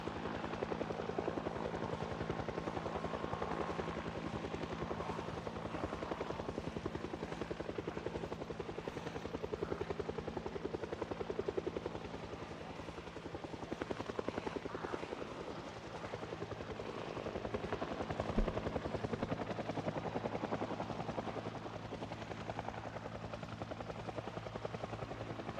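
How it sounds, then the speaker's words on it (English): A helicopter in the video game Project Zomboid flies overhead, its steady rotor thrum droning on for the whole stretch, loud and constant with a slight swell midway, no voices heard. "Helicopters, unless it's different now, they have 1 to 3 passes, most often 3."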